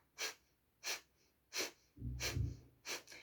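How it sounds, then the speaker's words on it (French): Breath of fire in a Kundalini yoga class: sharp, rapid nasal exhalations in an even rhythm, about one every two-thirds of a second, close and fairly quiet, with a brief low rumble partway through. "Pour cet exercice, on va utiliser la respiration du feu."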